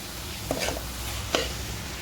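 A spoon scrapes and stirs grated coconut roasting in a pan for Konkan-style patolya, two short distinct scrapes standing out over a soft steady background hiss.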